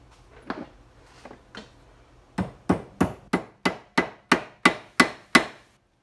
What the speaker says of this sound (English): something I'm going to do is actually nail this through